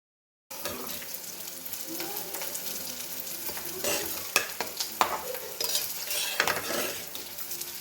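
Chopped medium onions frying and sizzling in a pan for chicken gravy, stirred with a utensil; a steady close sizzle with scraping and clinking spoon strokes, louder bursts near the end, no talking.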